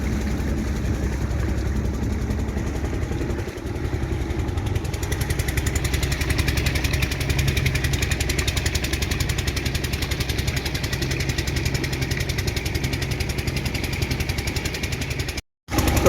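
A boat's motor drones steadily mid-river on the Ganges, a loud continuous low engine throb that runs unbroken, then cuts out briefly near the end, with no voices.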